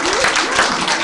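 Loud, dense applause from a gathered audience fills the whole moment, steady and close with no gaps.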